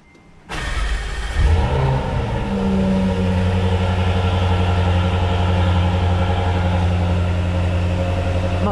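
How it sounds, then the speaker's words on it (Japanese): A Jaguar F-Type SVR sports car engine cranks and fires up with a loud rev, then settles into a steady, deep idle rumble that continues close by. "エンジン始動します。"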